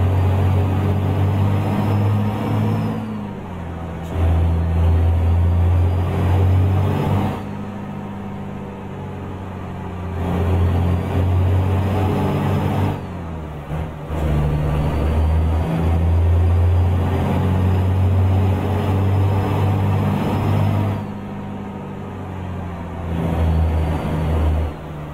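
A Mercedes Actros 2546 truck in Euro Truck Simulator 2 grinds along in a low gear on a narrow road, its engine a loud steady drone that swells and eases in long surges, with no talk over it.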